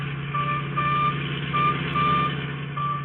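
A radio drama effect of a tracking signal from a radio hidden in a stolen Royal Coupe: short, evenly spaced high beeps repeat over a low, steady engine drone.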